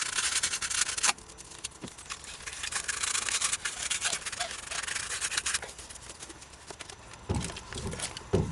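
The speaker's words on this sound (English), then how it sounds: "Clean the battery terminals. I use a sandpaper to clean them." Sandpaper scrubs car battery terminals in steady close rasping strokes, broken by a few brief pauses and knocks, no speech.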